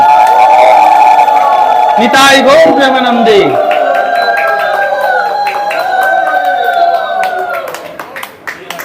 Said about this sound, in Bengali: আর একবার গৌর কিশোর দাস প্রভুর জন্য উলুধ্বনি এবং হাততালি জয়ধনী